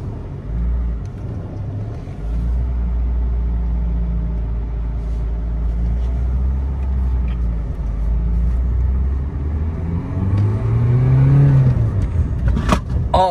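A 68-horsepower Peugeot 206 engine runs steadily at low rumble for the whole stretch, then revs up briefly with a rising whine before easing off near the end.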